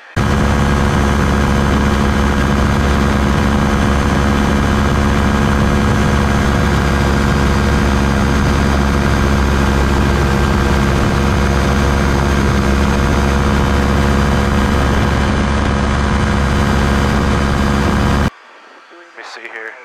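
Challenger II ultralight aircraft in flight, its engine and propeller droning loud and steady at cruising altitude for about eighteen seconds before cutting off abruptly near the end.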